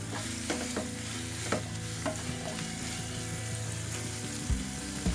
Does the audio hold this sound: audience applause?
no